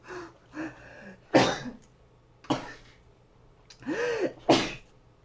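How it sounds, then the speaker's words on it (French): Several sharp sneezes and coughs from one congested woman in quick succession, close and loud, with breathy gasps between them and no talking. "Purée, j'ai éternué"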